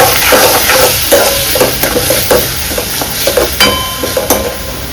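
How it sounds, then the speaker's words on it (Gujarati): A spoon stirs curry with turmeric and salt in a pan, making repeated scraping clinks in an uneven rhythm over a soft, steady sizzle, close and fairly loud. "હળદર નાખી દીધી છે, થોડું એક પોટકું મીઠું નાખી દઈશું, ત્યારબાદ હલાવી લઈશું"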